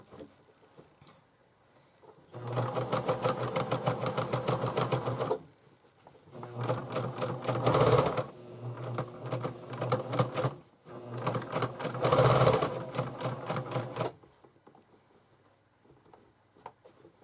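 A sewing machine runs a straight stitch on ribbon in three bursts of rapid, even mechanical clatter, each lasting a few seconds with brief quiet pauses between, heard up close.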